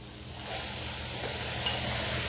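A pound of fresh peas gets stirred in a pot, a soft steady scraping with a faint sizzle underneath, close and continuous with no voices.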